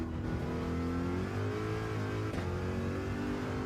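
Race car engine from the Gran Turismo 7 racing game, a Gr. 3 car at Suzuka, droning steadily and loud throughout with shifting revs and harmonic whine, alone without talk.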